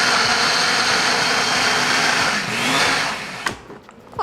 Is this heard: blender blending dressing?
yes